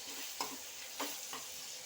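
Egg biryani masala fries in a pan under a constant hissing sizzle, with three brief scraping stirs of the spoon rising above it, quiet and close.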